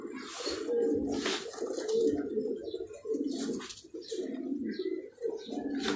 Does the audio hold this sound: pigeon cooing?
yes